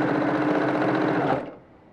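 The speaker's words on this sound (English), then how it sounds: "Put your foot down and just sew." A sewing machine runs at a fast, even whir while chain-piecing fabric log cabin quilt blocks, then stops abruptly after about a second and a half, leaving near silence; close and clear with no talk.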